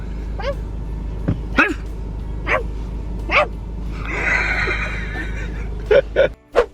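A large dog barks in short, loud, separate bursts spread across several seconds, with a brief whine in the middle and a couple of sharper barks near the end.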